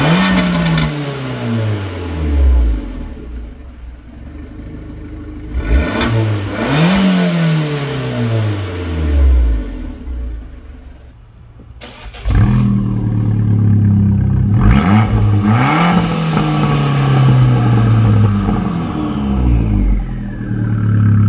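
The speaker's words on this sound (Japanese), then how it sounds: "マフラーはやっぱりコンペティションだとよりやる気のある音ということですよね" An Abarth 595 Competizione engine revs hard several times, its exhaust note rising and falling in loud bursts, then settles into a sustained throaty rumble.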